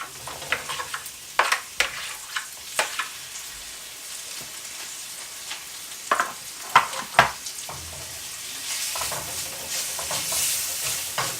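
Onion and prawns stir-fried in a hot pan: a steady close sizzle broken by sharp spatula scrapes and knocks, the frying growing louder toward the end.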